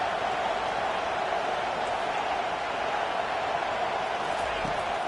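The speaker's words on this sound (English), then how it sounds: "This crowd busting the decibel meter and trying to will a 4th down stop." A football stadium crowd roars steadily and loudly throughout, a dense sustained wall of cheering at a college game as the defense faces a 4th down.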